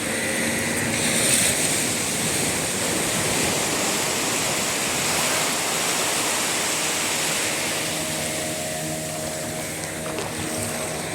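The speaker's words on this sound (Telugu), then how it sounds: "మార్నింగ్ అసలు అలలు బాగా వస్తున్నాయి." Morning sea waves breaking on Goa beach, a steady broadband wash of surf rolling on without pause, fairly close and continuous, with no talking.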